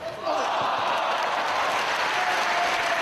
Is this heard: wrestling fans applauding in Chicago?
yes